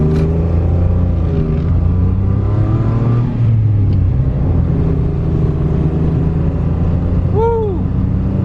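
A Citroen C1 engine hums steadily while driving, heard from inside the car, with its pitch rising and falling gently as it accelerates under a constant road rumble.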